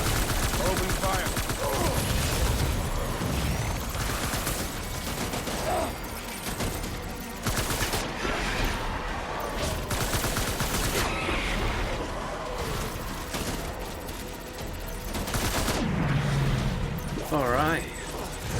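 Rapid gunfire and explosions during a firefight in the Death Stranding video game, continuous and dense with sharp bursts throughout, mixed with voices.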